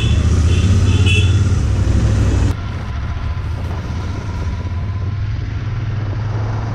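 A Royal Enfield GT motorcycle on the move, its engine a steady close rumble under heavy wind noise, easing back to a quieter, even drone partway through.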